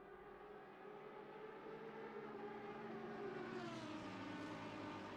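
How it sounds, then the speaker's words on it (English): Two Aston Martin V12 GT3 racing engines howl at top revs on the Monza circuit in a sim racing game, a smooth continuous high-pitched drone with layered harmonics that rises slightly in pitch and loudness toward the end. "2 V12s at top revs at Monza."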